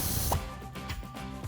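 Socket ratchet tightening the top sway bar end link nut on a Jeep Wrangler JL, giving a brief burst of quick mechanical clicks close by.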